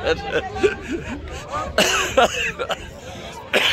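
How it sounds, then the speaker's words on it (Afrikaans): Several dry coughs from a person in a dusty outdoor spot at a Bull Run rally carnival, with a few scattered coughs and throat-clearing sounds over a background of crowd chatter. "Jammer vir die hoesie, maar hier is stof hoor."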